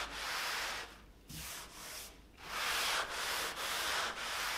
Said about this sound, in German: Und mit so einem Schwamm schleift ihr dann die Oberfläche wieder schön glatt.